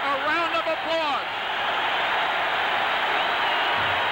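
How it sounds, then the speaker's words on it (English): Hockey fans at Madison Square Garden applaud a player during a 1981 Islanders at Rangers NHL game. A voice talks briefly at first, then a dense, sustained wash of crowd applause fills the rest. "the fans give Eddie Hospodar a round of applause"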